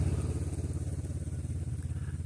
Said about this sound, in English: He rides a motorcycle.